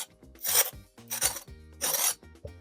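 Crispy crackling skin of a roast suckling pig cracking as it is cut, three loud, close crunching bursts with brief quiet gaps between them.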